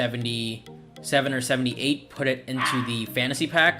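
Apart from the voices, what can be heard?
dogs barking outside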